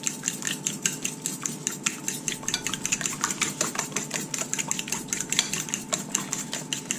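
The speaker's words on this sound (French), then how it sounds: "donc je vais les battre avec une fourchette" A fork beats two eggs in a deep plate in a home kitchen, a steady quick metallic tapping and clinking against the dish that continues without a break, close up, with no voices over it.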